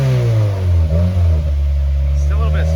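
A Subaru WRX's FA20DIT turbo engine revs up close and loud, its low rumbling pitch climbing and falling over a steady idle, while people talk nearby.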